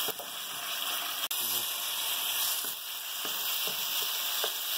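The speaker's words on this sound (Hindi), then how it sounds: "ये देखिए मसाला भुना रहा है" Masala spices fry in a pan for fish curry, a steady bright sizzle that runs throughout, close and loud, with a short gap and a couple of soft stirring scrapes.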